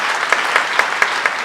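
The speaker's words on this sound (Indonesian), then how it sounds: "Beri tepuk tangan lagi buat Tuhan kita." A church congregation at a GBI worship service in Batam claps together, a dense steady wash of hands with a few louder beats standing out at a regular rhythm, with no voices over it.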